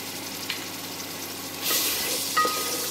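Ginger garlic paste goes into hot oil for tomato salan, giving a steady close sizzle that rises into a louder, brighter hiss partway through, with a faint clink near the end and no voices.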